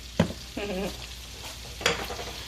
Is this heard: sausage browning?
yes